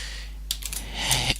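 Several quick keystrokes on a computer keyboard while entering code, a short scattered burst of clicks followed by a louder cluster, close and alone with no voice.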